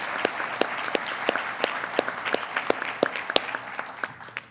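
An audience at a university honors recognition ceremony applauds the graduates, a crisp continuous patter of many hands at moderate distance, sustained throughout without voices.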